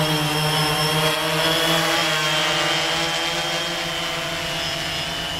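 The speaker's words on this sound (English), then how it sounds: "Diagonally to get the rotor spinning." Rotors of a DJI Phantom 2 quadcopter drone spinning, a loud, close, continuous buzzing whine with steady tonal hum and no pauses.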